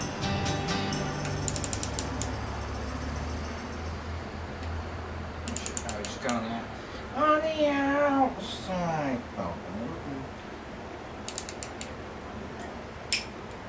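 A deep socket on a ratchet tightens bolts on a rebuilt Toyota 5SFE 2.2 engine, producing bursts of quick clicking ratchet strokes close up, separated by pauses, with a faint creak partway through.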